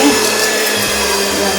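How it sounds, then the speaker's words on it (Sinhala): An electric mixer beats sugar and butter for a butter cake, giving a steady, close, continuous whirring drone that holds without a break. "අපි මේක විනාඩි 10ක් බීට් කරනවා."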